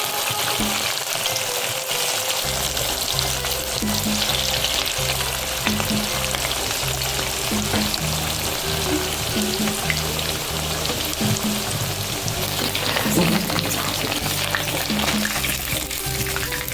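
Chicken pieces fry in hot oil with a steady, dense sizzle and crackle that runs continuously, fairly loud and close, with occasional stirring bursts and no talk.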